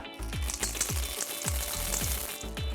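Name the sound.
stirring chocolate chips into cookie dough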